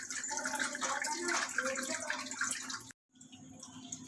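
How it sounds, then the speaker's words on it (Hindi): Chopped mixed vegetables for Manchurian are pressed and squeezed by hand, their juice dripping and trickling out in a steady wet patter before a brief silent gap. "तो हम इसको इस तरह से दबाते दबाते इसका सारा पानी निकालते हुए एक साइड रख देंगे।"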